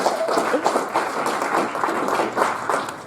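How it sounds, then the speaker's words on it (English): An audience at a tech meetup about robots and drones applauds, a dense, continuous patter of clapping lasting a few seconds at moderate volume with no speech over it. "Let's give a round of applause for"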